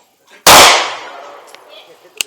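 A single loud, sharp gunshot cracks close by at an outdoor shooting range and decays into a ringing tail, followed by a faint click and a small metallic tap.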